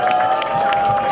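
A crowd at the opening of a campaign office for a Incheon mayoral candidate applauds and cheers for a National Assembly member, with a dense wash of clapping and voices backed by a steady tone.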